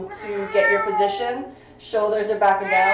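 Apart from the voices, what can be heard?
pet cat meowing, wanting to go out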